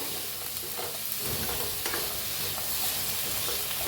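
Ginger and four tomatoes roast in a little oil for a village-style egg curry, giving a loud, close, continuous sizzle with soft shuffling as they are stirred around the pan.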